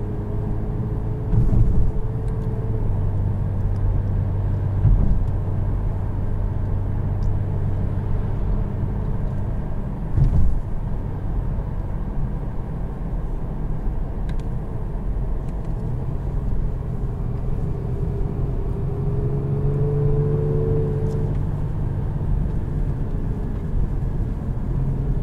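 A 2019 Genesis G70 3.3T engine hums and rumbles steadily while driving, heard from inside the cabin with low continuous drone, mild swells in revs and occasional road thumps, no talking.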